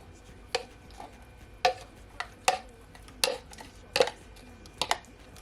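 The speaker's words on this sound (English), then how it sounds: "Then I'm just gonna add my blended jerk seasoning." Blended jerk seasoning spooned onto oiled chicken in a dish, heard as a series of sharp utensil clinks and scrapes against the bowl at irregular intervals, close and moderately loud, with no talking.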